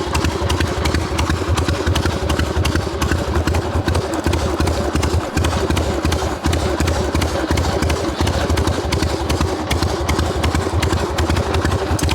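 A Harley XLCH chopper motorcycle engine idles steadily and loudly close by, with a lumpy, rapid, rhythmic thumping that stays constant throughout, and no one talks over it.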